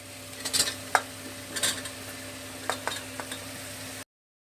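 Mushrooms fry in a little oil in a pan while a spoon stirs them, with a soft continuous sizzle and several distinct scrapes and clinks against the pan at irregular intervals.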